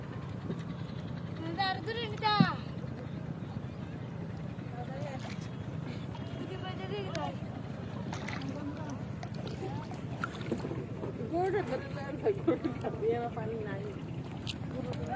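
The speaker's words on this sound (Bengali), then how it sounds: "এই যে বৈঠার আওয়াজটা আমি শোনানোর চেষ্টা করবো আপনাদেরকে" Water sloshes and splashes as a small boat is rowed with wooden oars in a village, with steady oar strokes beneath people talking nearby.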